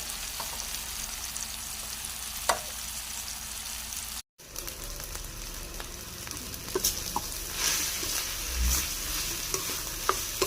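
Tomatoes and onions being sautéed for garlic-style fried rice made from leftover rice, with a steady close sizzle, light stirring scrapes and a few sharp clicks of a utensil against the pan; no one speaks.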